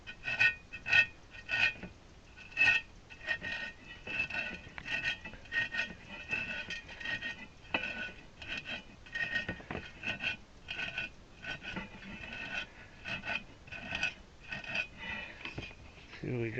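A deburring tool scrapes the inside of a copper wind chime tube in faint, repeated rasping strokes that come in an uneven rhythm, heard close up.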